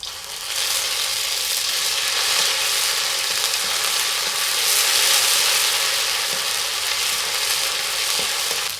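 Ginger, green chilli and pepper paste, added after dried red chillies and bay leaves, sizzles loudly in hot oil with sugar for a festive khichuri, a dense, close, continuous frying hiss that never lets up.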